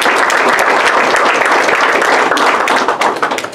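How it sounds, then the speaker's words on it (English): Sustained applause from a sizable crowd at a football signing-day event, dense and steady, loud throughout and thinning slightly near the end. "just give these guys a round of applause for what they've been able to accomplish"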